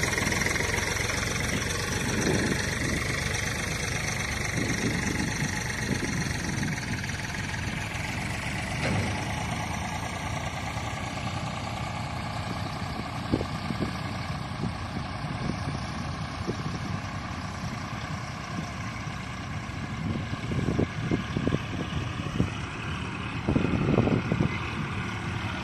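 Eicher 557 tractor with a 57 HP three-cylinder engine, pulling an 8-foot rotary tiller, runs steadily at close range, a continuous diesel drone with a few sharper knocks and surges near the end, no talk.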